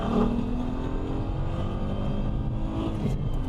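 A Ford ST car engine runs steadily at full power and high revs, a constant loud whirring drone with no voices.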